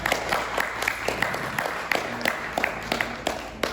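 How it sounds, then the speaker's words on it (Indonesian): An audience applauds two speakers at an Islamic talk, a moderate spread of clapping with individual claps standing out and faint voices mixed in. "Berikan tepuk tangan yang meriah"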